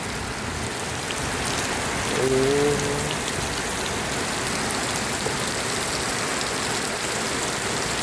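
Heavy rain pours during a storm in Laos near rice fields, a loud, unbroken roar of drops on surfaces, with a brief low engine hum rising and fading around the middle.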